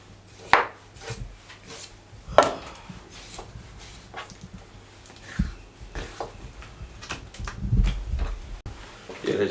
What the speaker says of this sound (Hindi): ये जी, सब पीसों को हमने इस तरीके से कट लगा लिया।